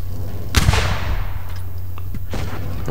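A single heavy tank cannon shot from an IS-6 in World of Tanks Blitz booms loud and close, then its rumble decays over a steady engine drone with no talk.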